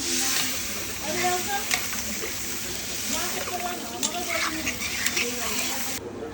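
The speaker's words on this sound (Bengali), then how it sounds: "মশলাটাকে দিয়ে আলুর সঙ্গে ভালো করে কষিয়ে নেওয়া হচ্ছে" Spice paste frying with potatoes in a pan gives a steady, close sizzle with occasional stirring scrapes, heard under someone speaking.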